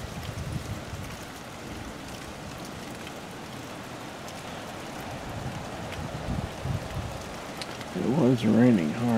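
Heavy rain during an early-morning storm in Burbank, California makes a dense, continuous hiss for several seconds. A voice breaks in near the end.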